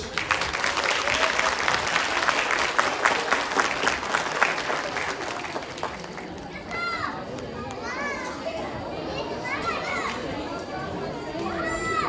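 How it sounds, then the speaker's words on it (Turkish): Loud, sustained applause from a crowd of 4-6 year old children at a Quran course graduation, lively and close, fading after several seconds into chatter and high children's voices. "öğlenci grubumuza da kuvvetli bir alkış"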